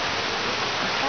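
Steady broadband rush of a waterfall, dense and even throughout, fairly close with no distinct splashes standing out.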